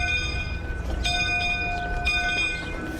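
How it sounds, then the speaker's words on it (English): Little Prince, a small wood-fuelled locomotive on a short narrow-gauge line in Prince George, British Columbia, rumbles nearby with a sustained ringing whistle-like tone and a few sharp metallic clanks over the low chug. "the Little Prince runs on Canada's shortest rail line."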